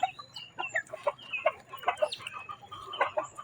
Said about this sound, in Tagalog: Tabangan ng manok ihas.